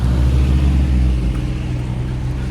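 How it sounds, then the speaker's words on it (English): Loud, rumbling engine noise from cars and a tractor passing close by, a continuous low drone with a heavy motor throb. "Excuse the noise of the cars and the tractor we just walked by."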